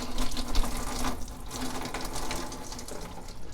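Fluid steadily drains and splashes from a hose pulled off a 2012-2017 Jeep Wrangler engine after its clamp is removed, a continuous close pouring trickle with no talk.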